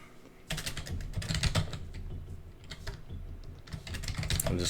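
A computer keyboard is typed on in a quick, uneven burst of clicking keystrokes, entering an administrator username during a Debian/Ubuntu install; close and fairly loud, with no voices.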